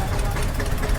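Tractor engines at a farmers' tractor rally keep up a steady, loud, rumbling idle with knocking vibration, continuous and close throughout.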